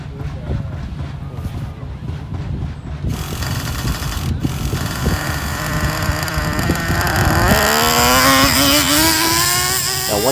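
A Traxxas Revo 3.3 nitro RC car engine accelerating on grass, a buzzing two-stroke whine that climbs and rises in pitch toward the end, loud and close.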